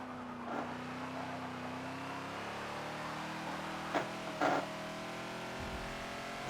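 A Ford Falcon XB race car's engine holds a steady drone and then climbs in pitch as it accelerates through second gear on the Catalunya National circuit in Forza, close and continuous, with a couple of brief bumps or tire sounds.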